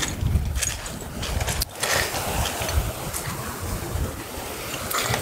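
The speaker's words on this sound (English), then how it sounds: "Wait till the waves are a little bit lower." Ocean surf breaking and washing at a rocky shore dive entry on Bonaire, a steady broadband rush with swells rising and falling, wind buffeting the microphone, no talking.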